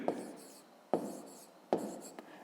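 Pen strokes scratching out math by hand on paper, three distinct bursts of writing each starting sharply and trailing off, close and clear with no talk over them.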